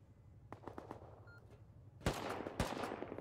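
Rapid gunfire from AK rifles in the Rust survival game, with a few sharp distant shots first, then two loud, close bursts over a steady low rumble.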